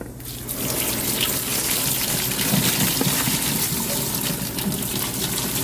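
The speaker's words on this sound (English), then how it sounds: "once you've got that pasta drained" Water gushes and splashes steadily as a pot of pasta is poured out into a strainer, a loud continuous rush.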